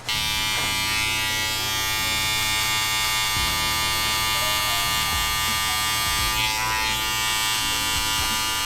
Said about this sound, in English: I'm just gonna be closing my clipper up a little bit more, just to get those lines out, just to fade that hair completely.